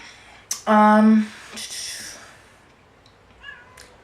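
A cat lets out one loud, drawn-out meow, followed by soft rustling and a faint second cry in a quiet room.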